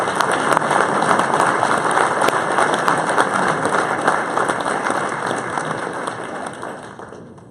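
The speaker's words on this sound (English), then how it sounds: "Give him a round of applause." A crowd at a Martin Luther King Jr. celebration gives a round of applause for a speaker being introduced, a loud, dense patter of many hands that stays steady before slowly fading.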